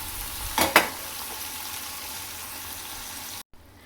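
Ground meat sizzles in a frying pan with a steady close hiss, a brief louder burst of stirring near the start, then it cuts off suddenly near the end.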